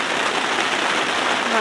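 Heavy rain falling hard on a family campsite near a waterfall, a loud, close, continuous wash with no let-up, and a faint voice briefly near the end.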